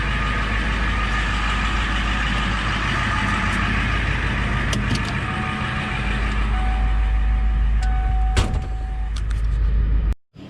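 A Ford OBS truck idles loudly with its new exhaust no longer routed through turbo piping, a steady deep rumble close by that cuts off abruptly at the end.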